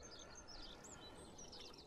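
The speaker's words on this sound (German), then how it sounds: "Die Vögel zwitschern." Birds chirp and twitter in the early morning by the sea, faint high calls scattered over a steady background rush of wind and surf.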